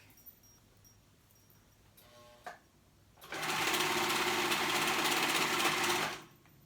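A sewing machine stitches a skirt waistband in one steady, close whirring run of about three seconds after a few faint clicks, then stops.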